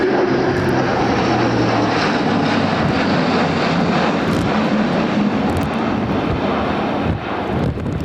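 A Luftwaffe Airbus A400M turboprop transport flies a steep banked turn at the RIAT airshow, its engines producing a loud, steady roar that persists throughout with little change, and no voices are heard.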